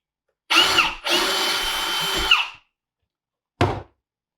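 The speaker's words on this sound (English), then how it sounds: "let's drill another hole" A power drill whirs loudly in two bursts, a short spin-up then a longer steady grind into a wall, followed by a brief thump after a pause.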